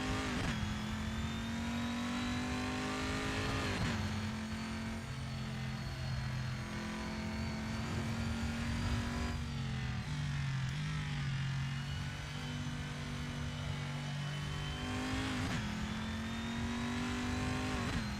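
A GTE race car in the Assetto Corsa sim at Road America howls with a loud, sustained engine note, climbing through the revs with sharp drops at each gearshift, running continuously without speech.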